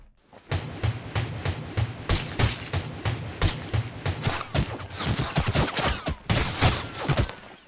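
Rapid bursts of gunfire from a shooter video game, Rules of Survival, fired around a building, with repeated sharp shots in quick clusters that stay loud and close throughout.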